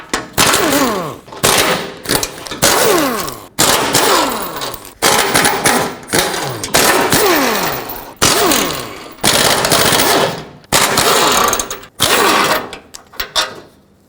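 A power tool spins off 15 mm bumper bolts on a 2007-14 Chevy Silverado, firing loud, close bursts of roughly a second each, repeated about nine times with short gaps, ending in a few brief taps.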